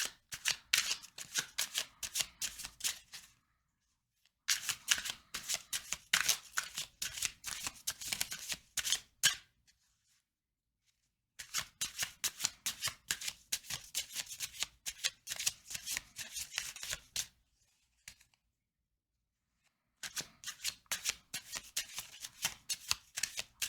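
A deck of tarot cards is riffled and shuffled up close in four separate bursts of rapid flapping, each lasting a few seconds and separated by short silent pauses, with no voices.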